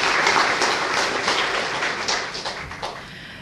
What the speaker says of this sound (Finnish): Joo, aplodit.